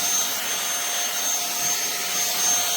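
An Iirios 580W cordless vacuum cleaner runs on carpet, giving a steady, loud, high-pitched motor whine with a constant airy hiss throughout and no talking.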